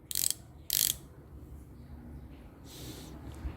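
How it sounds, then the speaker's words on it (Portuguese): The ratchet thimble of a micrometer clicks up close in two short, loud bursts of rapid clicking, followed by a quieter stretch of faint handling noise. "Olha o barulho da catraca."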